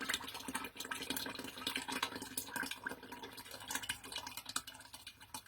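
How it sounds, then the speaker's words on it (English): Melted clay poured from a height into a mask mold, making a continuous gurgling, splashy pour with crackling noise that goes on steadily throughout. "slowly and gently pour that melted clay into the, I do a high pour, so I can get it all in there"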